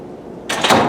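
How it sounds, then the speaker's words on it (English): A door opens close by with a sudden broadband rush and rattle that starts halfway through and carries to the end, loud against a quiet room. "someone opened that door next to us"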